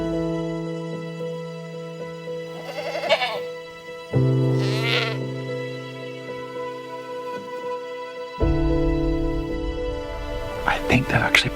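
Goats bleat in the open along a tree line, several wavering cries rising over a steady drone, moderately near, with the last calls louder and rougher.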